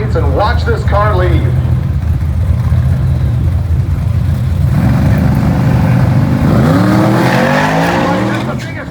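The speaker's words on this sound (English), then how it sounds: "And watch this car leave." A drag car on 315 drag radials launches down the Cordova track at Dragweek 2022 with a loud engine roar that climbs in pitch near the end, under a steady background of crowd and talk.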